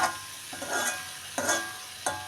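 Bitter gourd curry with sugar gets stirred in a frying pan, the spatula scraping in a few distinct strokes over a soft sizzle, loud and close with no talk.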